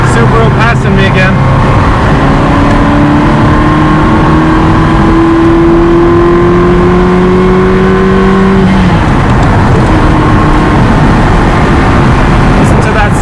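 A Ferrari 360 Spider engine pulls hard and loud from close by, its pitch climbing steadily through a long run of acceleration before a shift, with road noise throughout.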